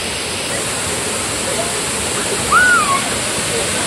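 A large waterfall in Kolhapur pours with a loud, steady, dense roar filling the whole clip, with a brief faint whistle-like voice briefly cutting through near the end.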